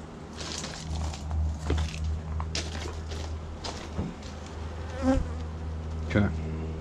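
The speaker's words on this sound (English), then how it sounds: "there are a lot of bees in this one" Bees swarm and buzz steadily around an open Apimaye hive, a three-month split at its seventh month, with a close continuous drone and individual insects zipping near and away, plus occasional soft knocks of hive handling.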